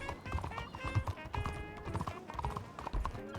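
Horse hooves clip-clop steadily in a video game, a fast rhythmic series of close, hollow knocks with musical tones and faint voices underneath.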